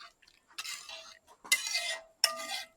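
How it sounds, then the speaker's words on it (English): A spoon scrapes and clinks against a pot of Jamaican rice and peas cooking on a coal fire outdoors, landing as three short stirring strokes close by, separated by brief silences. "let me give it a stir, let you guys see how wonderful this is"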